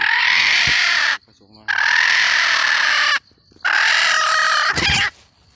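Loud, harsh, rooster-like crowing calls from a female junglefowl repeat three times close by, each lasting over a second with short gaps between them.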